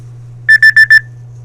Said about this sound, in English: I think it's my regular alarm for work.